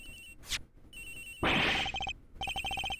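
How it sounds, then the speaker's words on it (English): A phone in the Ace Attorney Investigations game rings with rapid electronic trilling bursts between brief swooshing effects, loud and close with no talking. "Hey, Jinx's phone! It's ringing from somewhere, sir!"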